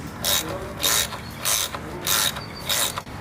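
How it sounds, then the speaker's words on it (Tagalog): A ratchet wrench tightens a part on an old Mustang GT left out in a field, clicking in five steady bursts of pawl chatter, close and fairly loud with no talk. "Nacho, bakit hindi mo na lang higpitan yan?"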